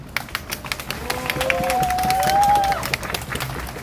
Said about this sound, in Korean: 인사로 큰 박수로 맞아주시기 바랍니다.